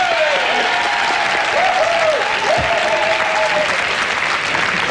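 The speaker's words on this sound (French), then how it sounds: "on peut les applaudir" Studio audience applause on a French TV game show, a dense continuous wash of clapping with a faint whistling tone gliding over it.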